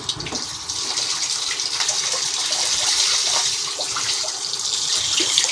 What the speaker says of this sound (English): the water is coming out from here